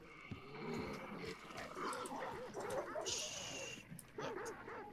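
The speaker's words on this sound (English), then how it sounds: "Shush, doggies." Dogs in the game Hunt: Showdown bark and whimper in a rough, agitated cluster of yips and growls, mixed with game ambience and someone talking over them.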